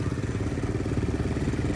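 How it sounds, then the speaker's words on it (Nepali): Motorcycles ride together on a road, giving a continuous low engine drone with a slightly pulsing rumble, steady and moderately close throughout. "बाइकहरूको आवाजले केही सुन्दैन होला, तर हामी ठुलो स्वरले बोल्ने छौँ।"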